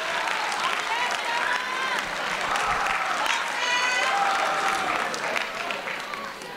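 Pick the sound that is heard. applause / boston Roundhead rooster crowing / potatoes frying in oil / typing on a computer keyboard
applause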